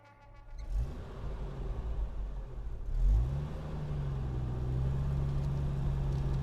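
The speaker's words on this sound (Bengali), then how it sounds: "আমি গাড়িটা বের করি গ্যারেজ থেকে" A car pulled out of a garage: an engine starts and revs up near the close mic, then settles into a steady low idle-to-drive hum.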